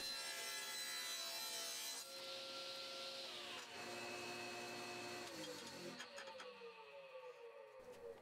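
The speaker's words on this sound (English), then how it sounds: "I dial it in until I'm cutting strips that fit into the kerf perfectly." A bandsaw whines steadily while cutting thin wood strips, the blade pitch shifting as each strip feeds through, then winding down at the end.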